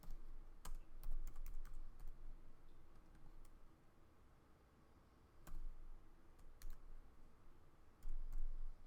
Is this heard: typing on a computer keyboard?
yes